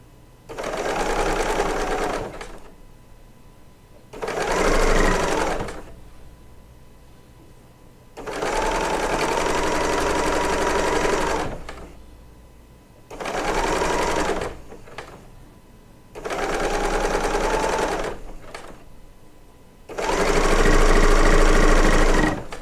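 Serger sewing machine stitching quilt fabric for a decoupage trip quilt, running in six loud, steady bursts of a few seconds each, separated by short quiet pauses, up close without talk.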